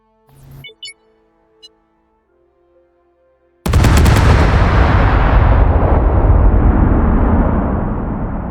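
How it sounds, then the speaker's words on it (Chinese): Explosives detonate in the space exploration game Astroneer: a few faint clicks and small pops lead into a sudden, loud, sustained rumbling blast that roars on for about five seconds and slowly fades, with no talking. "那我就再点一下，爆炸"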